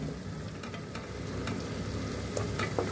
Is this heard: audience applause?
no